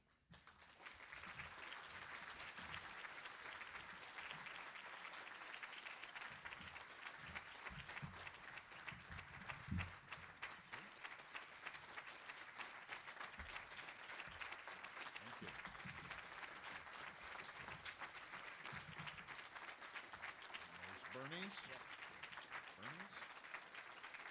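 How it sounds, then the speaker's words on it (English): Sustained applause from an audience at a Kansas Press Association awards ceremony as a recipient comes forward, dense steady clapping filling the room for over twenty seconds with a faint murmur of voices underneath. "if you would all join me in a round of applause, Eric"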